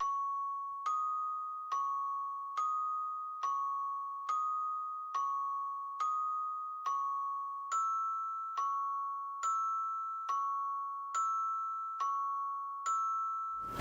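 A bell-like tone rings in a steady repeating pattern, about a dozen evenly spaced strikes alternating between two close pitches, each decaying quickly.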